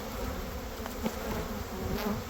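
Bees at an opened beehive in spring give off a dense, continuous buzzing close by, steady throughout with no talk.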